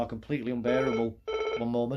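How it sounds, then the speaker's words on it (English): A telephone bell rings in bursts under and around a man's speech, the ringing loud and close, pausing briefly before sounding again. "That was just a phone call."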